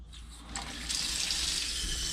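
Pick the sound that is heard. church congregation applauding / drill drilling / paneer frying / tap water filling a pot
tap water filling a pot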